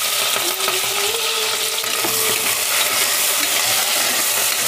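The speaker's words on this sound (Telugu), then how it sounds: "ఆలుగడ్డ బాగా ఇట్లా ఎంచుకోవాలంట నూనెలో" Potatoes frying in hot oil with green chillies and onions, a steady close sizzle and crackle running throughout with occasional stirring scrapes, no talking.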